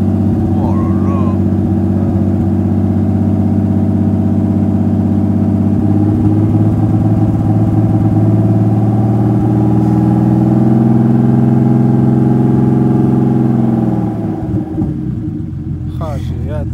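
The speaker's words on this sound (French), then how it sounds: "J'ai entendu un petit turbo." A BMW E36 with a turbo runs in its first start without engine management, giving a loud, steady low rumble held close for most of its length, rising slightly before dropping away near the end, with voices talking over it.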